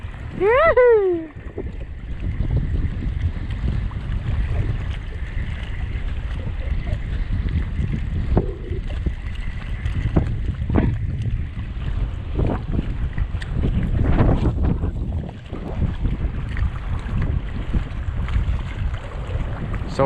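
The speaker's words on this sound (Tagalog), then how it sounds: "Sobrang lakas ng hangin." Strong wind roars steadily over a small fishing boat at sea, with gusting microphone buffeting throughout and occasional voices breaking in.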